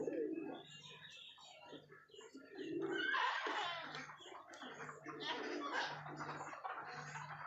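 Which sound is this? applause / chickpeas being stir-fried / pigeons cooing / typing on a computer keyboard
pigeons cooing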